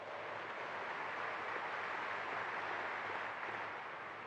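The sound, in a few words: applause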